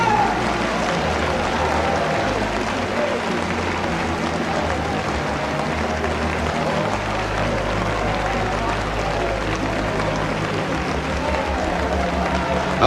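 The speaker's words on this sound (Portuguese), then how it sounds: "Dê-lhe uma salva de palmas." Church congregation applauding at the close of an evangelistic meeting, a steady, dense wash of clapping that fills the whole stretch at even loudness, with a low hum underneath.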